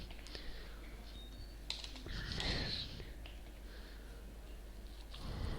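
Someone types Java code on a computer keyboard, a quiet run of soft, irregular key clicks over a low steady hum, with breathy noise in the middle.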